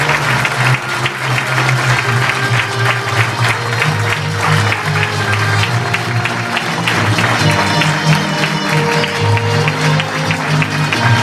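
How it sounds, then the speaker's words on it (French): Audience applause for recipients of Queen Elizabeth II jubilee medals at an award ceremony, loud, steady clapping from a crowd sustained throughout with low background murmur. "On les applaudit, s'il vous plaît."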